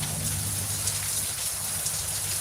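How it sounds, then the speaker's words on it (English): Heavy rain pours steadily, a dense, constant hiss of drops hammering a surface close by. "Wow, it's raining hardcore. Look at this rain, guys."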